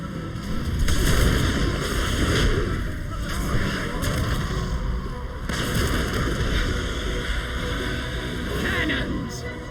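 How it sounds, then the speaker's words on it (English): Booming cannon blasts go off repeatedly amid a dense, rumbling game soundscape with wind and water noise, and a voice speaks over it. "Cannons, fire!"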